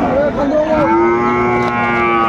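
A young Sahiwal bull calf lets out one loud, drawn-out moo close by, rising and then holding steady for about two seconds.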